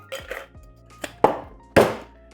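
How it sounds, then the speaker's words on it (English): Ice is dropped into a metal cocktail shaker tin while a Grasshopper cocktail is made, giving several loud clattering, clinking impacts in uneven bursts, close up with no talking. "add some ice into our tin."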